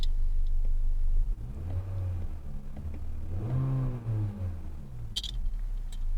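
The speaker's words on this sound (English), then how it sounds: "we are taking off in the 2020 Honda Civic Sport Coupe" A 2020 Honda Civic Sport Coupe pulls away with its engine climbing through one rising surge, heard from inside the car, moderately loud and steady, with a brief clunk near the start.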